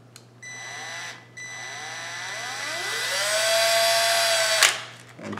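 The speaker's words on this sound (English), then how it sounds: "And then I'm just going to put that into the" A power drill spins up with a rising whine as a 1/16 bit bores through a plastic servo arm. The whir climbs in pitch, stops briefly, then resumes close and fairly loud with no talk.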